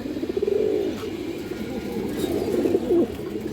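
Domestic pigeons of fancy colored breeds, such as red chulli and black jag, coo in a low, rolling series of throaty calls, close and steady for the whole stretch, with no talking.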